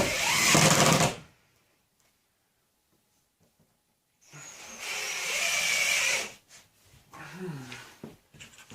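A power tool drives countersunk screws into a wooden skateboard bowl in loud whirring bursts separated by a long quiet gap, with someone speaking briefly near the end.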